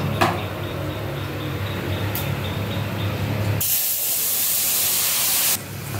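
Fish curry with bottle gourd hisses and bubbles in a hot pan after the fried fish goes in, a loud steady sizzle that jumps to a harsher, brighter spray of hissing midway.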